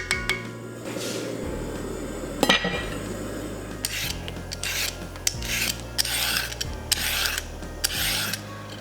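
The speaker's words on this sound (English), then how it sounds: "let's cut up our veggies" Knife chopping vegetables into big chunks for Korean spicy braised chicken, a steady series of about eight sharp knocks on a cutting board with rasping cuts between them, close and clear, with no talking.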